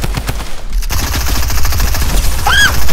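Rapid SMG gunfire in Fortnite during a creative-mode 1v1, sustained bursts of sharp automatic shots with a brief pause, then continuous fire and a rising whistling game effect near the end.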